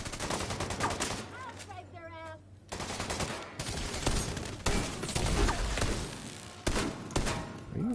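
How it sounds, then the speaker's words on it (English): Gunfire in The Division 2, rapid automatic bursts and single shots crackling close by, interspersed with game effects and a voice speaking between volleys. "Are you shooting at me, you motherfucker?"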